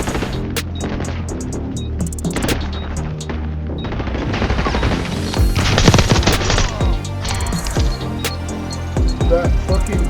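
Rapid full-auto Glock pistol fire in Black Ops 6 rattles in long, loud bursts mixed with other gunshots and game effects, with voices briefly heard beneath.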